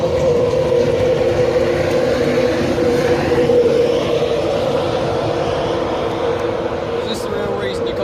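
A train of Mark 4 coaches with a class 91 locomotive on the rear rushes past on the East Coast Main Line near Peterborough, a loud, steady roar of wheels and rumbling carriages that fills the whole stretch without letup.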